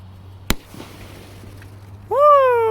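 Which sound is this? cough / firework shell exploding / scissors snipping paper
firework shell exploding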